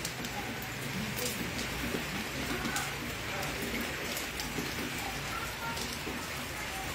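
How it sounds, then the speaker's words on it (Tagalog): Steady rain falling in Pangasinan, a dense, even hiss of drops on surfaces that continues unbroken from start to finish at moderate level, with faint voices in the background. "Ay, ulan."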